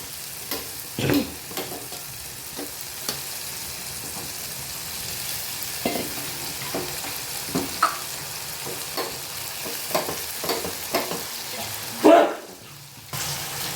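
Lentils, moong dal with chana dal, stirred and frying in a pan with birakaya, a steady low sizzle broken by repeated scraping stirs and clinks of a spoon, close by.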